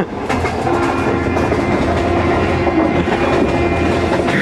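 Passenger train running from North Korea to China, a steady loud rumble of wheels on rails with rhythmic clickety-clack beats throughout, heard from inside the carriage with no talk.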